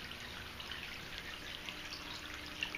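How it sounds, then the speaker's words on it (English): A tabletop Buddha fountain sculpted from California volcanic rock, water gently trickling and dripping over the carved face; a steady, soft, close hiss of running water with no talk. "how the water just gently cascades down over the Buddha's face"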